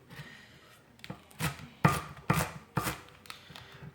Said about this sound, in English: Like you can hear them crunchy when I cut them